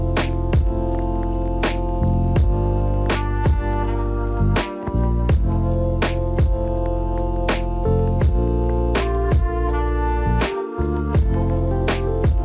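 Lofi hip hop beat with a small melody across a 32-step pattern, sustained chords and a steady kick-and-snare groove, looping alone at a constant volume.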